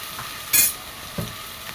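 Lentils and potatoes are stirred and roasted in a tempering in a pan, giving two brief bursts of stirring and sizzling, one brighter hiss near the start and a duller scrape later, against a quiet kitchen background.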